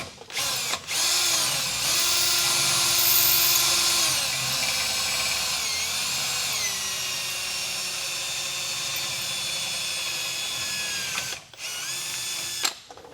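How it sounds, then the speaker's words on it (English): A power drill bores holes through a powder-coated truck wheel well for a wheel light install, whining loudly and steadily with brief pitch drops, stopping twice near the end. "we'll drill both holes at the same time"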